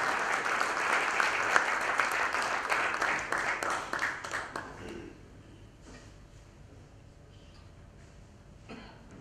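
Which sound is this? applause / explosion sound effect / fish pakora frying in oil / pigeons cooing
applause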